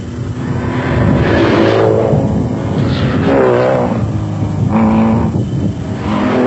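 The Pennzoil Land Rover charges through the 1997 Trans-Tongoland off-road race in South Africa, its engine roaring loud and close with pitch swelling and dipping as it revs between gears.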